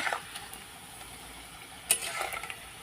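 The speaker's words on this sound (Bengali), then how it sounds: "একটু লাল লাল করে ভেজে নিলাম" Bara, lentil fritters, fry in hot oil as a soft, steady sizzle, with a few faint clicks and one brief metallic clink of a utensil against the pan, close and quiet, no voices.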